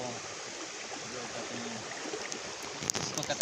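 Water rushes steadily through the channel of a village water mill (jander) grinding maize, a continuous broadband flow heard close and unbroken, with a few sharper splashes near the end.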